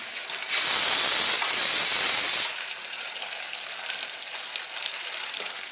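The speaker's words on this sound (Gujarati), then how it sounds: "ગોળ ગોળ મોટી મોટી પાણીપુરી તળે છે" Round pani puri deep-fry in hot oil, giving a loud burst of hissing sizzle for about two seconds that then drops to a steady softer fizz.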